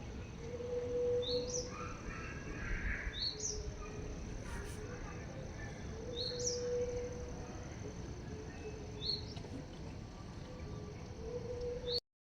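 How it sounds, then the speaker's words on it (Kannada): Evening outdoor ambience with several birds calling, including repeated sharp rising chirps and crow-like caws over a faint steady background hum, moderately distant. "ಹಕ್ಕಿಗಳ ಚಿಲಿಪಿಲಿ ಸೌಂಡ್ ಎಷ್ಟು ಚಂದ ಕೇಳತ್ತದ"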